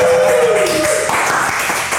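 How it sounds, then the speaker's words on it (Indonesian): Clapping from a small podcast studio audience, mixed with a tonal sound that slides downward early on and other bright noise, fairly loud and brief. "Tepuk tangan dulu dong"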